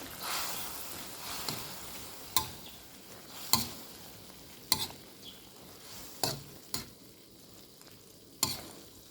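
Chicken giblets stir-fried with holy basil in a hot pan, a steady sizzle punctuated by sharp spatula scrapes and clinks against the wok at irregular intervals, close and alone with no voices.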